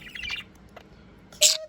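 A pet budgie gives short, bright chirps: a soft twitter at first, then one sharp, louder chirp near the end, heard close up with no talking over it.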